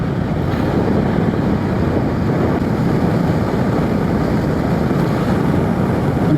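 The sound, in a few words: Vespa GTS 125 scooter riding near 100 km/h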